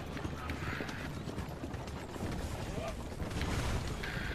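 Galloping horses in the video game Assassin's Creed 2 pound out rapid hoofbeats over a steady rushing background, loud and continuous for a few seconds.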